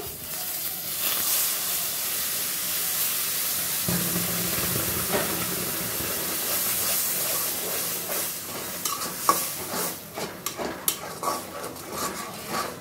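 Pointed gourd peels, dried chillies and turmeric sizzling in hot oil in a pan: a loud, steady frying hiss close up, with a few stirring clinks and scrapes near the end.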